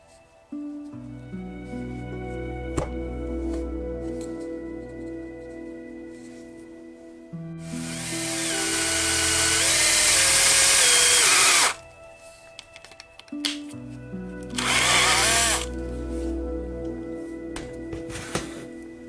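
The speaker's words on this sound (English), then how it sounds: "I made the recess for the spoon stake using a drill and a chisel." A power drill whines at high speed, boring into wood for several seconds, then a shorter second burst, with quieter workshop noise between.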